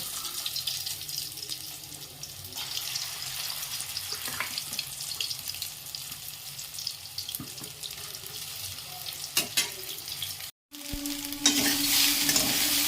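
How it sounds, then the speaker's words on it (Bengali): Soybean chunks frying in hot oil in a pan while a gravy dish is cooked, giving a steady loud sizzle and crackle with some clatter, a brief drop near the end and then a sharper, fiercer hiss. "এবার আমি সয়াবিনগুলো এখানে ভাজতে দিয়ে দেবো"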